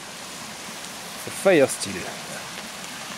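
Rain begins falling at a bivouac camp while a fire is being lit, a steady soft hiss filling the background, with a brief spoken phrase over it.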